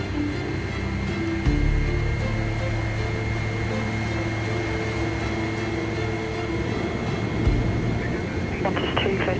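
A Qantas Airbus A380 on flight 2 pushes back and taxis away as a steady, loud jet-engine drone and hum, with the low rumble shifting about midway through. Faint talk is mixed in beneath.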